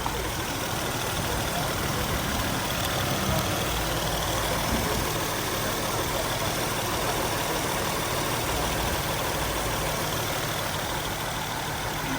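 Acura ZDX engine idling after a belt tensioner replacement, with no squeal, a steady broadband rumble heard close and continuous throughout.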